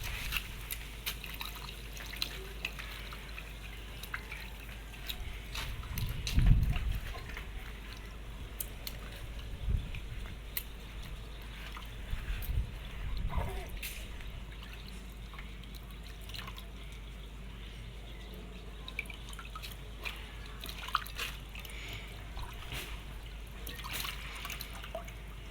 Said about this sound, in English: I will wash my ginger.